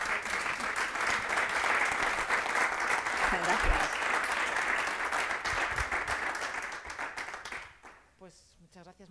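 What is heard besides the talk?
audience applause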